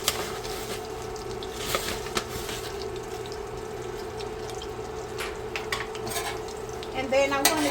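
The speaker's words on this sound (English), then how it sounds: "And then I'm going to give this a good stir." Melted butter and all-purpose flour stirred in a pot, with a spoon scraping and clinking against the metal, a soft steady sizzle underneath and a few sharper knocks near the end, no talking.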